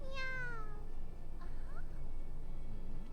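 A person imitates a cat with a run of little meows, high warbling voiced cries near the mic at the start, then softer, shorter mews over low background hum.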